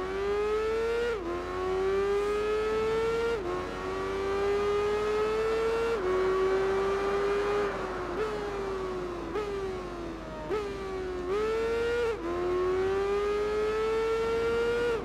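Racing motorbike engines from the Tourist Trophy video game whine steadily at high revs, pitch dropping briefly at each gear shift before climbing again, loud and continuous with no one speaking.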